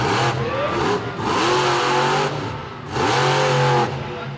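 A big green monster truck with a 1,500-horsepower engine revs loudly at a show in Muskogee, Oklahoma, roaring in long sustained surges with a short dip between them, close and alone.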